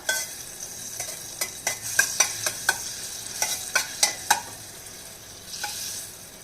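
Butter warms in a pan for drumstick soup and a faint sizzle rises as lentils go in. Sharp spoon taps and clinks against the pan repeat through the middle, with no talking.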